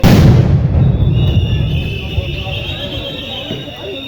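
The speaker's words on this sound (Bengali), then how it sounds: "আরেকটি গ্রেনেড শব্দ আপনাদেরকে শোনানোর দেখানোর চেষ্টা করছি।" A grenade blast during a police clash with student quota-reform protesters booms loudly at the very start, then fades into a rumbling crowd din with voices through the rest.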